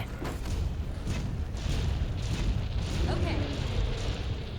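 In Monster Hunter World, a wall-mounted cannon fires repeatedly at the giant Zorah Magdaros, dull booms and rumbling thuds blended into loud, continuous battle noise with a voice talking over it.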